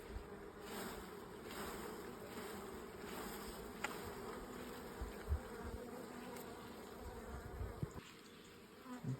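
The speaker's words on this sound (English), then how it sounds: "shake this off as well to get most of the bees off" Dense, steady buzzing of Buckfast honey bees around a hive frame being shaken during an inspection, a constant drone with occasional louder swells and knocks, close and fairly quiet, with no talking.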